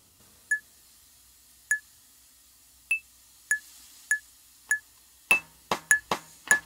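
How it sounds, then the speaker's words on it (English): Sharp, bright metronome clicks tick at a slow steady pace in 4/4, then a second layer of quarter-note triplet clicks joins, forming an uneven interlocking polyrhythm. "I'm using the 4-4 even eighths metronome now with a setting on the polyrhythms"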